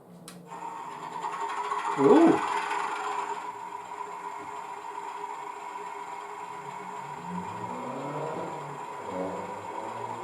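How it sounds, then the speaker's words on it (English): A car engine starts up with a sharp crank and a louder surge, then settles into a steady mechanical whine and hum that carries on evenly at close range. "Well, the engine just started up all right."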